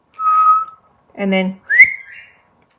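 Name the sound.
whistled imitation of bobwhite quail call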